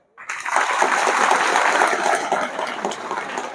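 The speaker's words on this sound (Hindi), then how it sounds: "आप अपने लिए ताली बजाओ।" Schoolgirls at a girls' inter college in Shahganj, Uttar Pradesh, applaud themselves in a classroom. A dense burst of clapping starts abruptly and stays loud and steady for several seconds.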